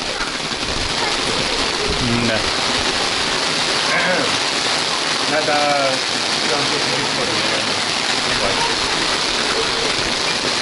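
Heavy rain pours steadily and loudly throughout at a dacha, with brief bits of conversation breaking through the downpour.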